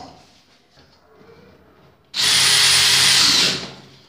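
A power drill drives a screw into round ceiling trim: a loud, steady whir that starts abruptly and runs about a second and a half, then stops, after quiet room sound.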